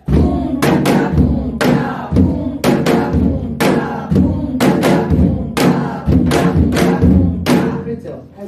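A Korean traditional drum beats out a jangdan rhythm during a drumming lesson, with sharp, loud strokes falling in a regular repeating pattern of heavy and lighter hits.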